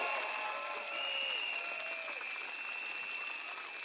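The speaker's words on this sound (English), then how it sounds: "Give a big round of applause to Dr. Jano." Sustained applause from a crowd, steady clapping that fills the whole stretch without pause.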